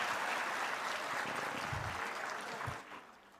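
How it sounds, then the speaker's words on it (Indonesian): A large crowd at a state ceremony for mass housing mortgage signings and key handovers with the President gives faint, distant applause that fades out near the end, with brief low voices underneath. "kok tepuk tangannya nggak terlalu keras kalau Pak?"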